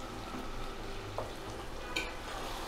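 Beef curry is stir-fried in oil as the masala cooks down and the oil separates. The sizzle is faint and steady, with a soft stir or two and no voices.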